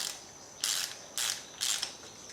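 Ratchet wrench tightening spark plugs on a 2010 Mazda 3 2.0 liter engine: three short, bright clicking bursts evenly spaced over a faint background, with no talking.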